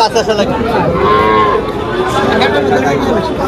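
Cattle lowing at the Tepakhola cattle market in Faridpur, where many dairy cows are brought for sale; several moos rise and fall across the clip over a steady crowd murmur and nearby chatter.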